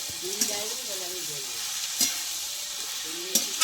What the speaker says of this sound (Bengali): এই সর্ষে শাকটা যে ভাপিয়ে রেখেছিলাম সেটা দিয়ে দেবো, দিয়ে বেগুনের সঙ্গে ভালো করে আমি এরকম ভেজে নেব